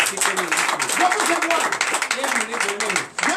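Worshippers at a night deliverance and prophecy church service clap in a busy, continuous patter while voices sound over and among the hands, briefly dipping near the end before resuming.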